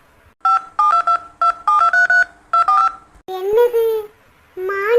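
Loud telephone keypad tones in a cartoon sound as a rapid series of short, sharp beeps in quick bursts, about a dozen presses, before a cartoonish voice speaks.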